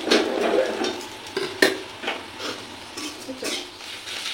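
Onions frying in oil in a pan for Bengali lentil dal with panch phoron, with close sizzling, intermittent stirring scrapes and a sharp utensil clink partway through.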